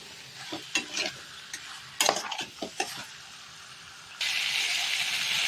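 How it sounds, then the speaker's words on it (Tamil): Chicken pieces being stirred in a hot pan for Pallipalayam chicken, with scraping and clinking utensil strokes in irregular bursts over a soft sizzle that turns into a steady, louder hiss near the end. "சிக்கன் போட்டு நல்லா கிளறிட்டோம்."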